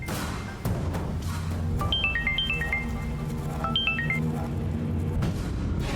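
A phone ringtone plays a short descending melody of electronic beeps, repeated twice, over a low background hum.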